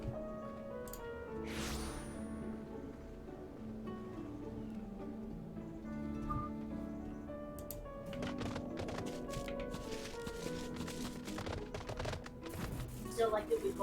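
Hooves of a summoned lightning horse mount in Final Fantasy XIV, a soft clip-clop running steadily under game music and ambience, with a voice talking over it.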